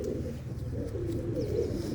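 Low, continuous pigeon cooing from a loft of Chak Bakhtu pigeons, a soft murmuring drone that stays steady throughout without pauses.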